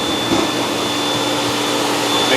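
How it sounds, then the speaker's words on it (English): Shop vacuum cleaner on a metal shaper restoration, sucking air and dust into a canister with a loud, steady whining roar that holds constant throughout, close and alone. "This thing's got a vacuum cleaner that sucks all the air out, the dust, and goes into this canister."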